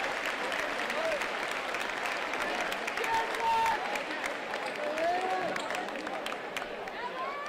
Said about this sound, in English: And gets a good round of applause as he gets to his feet.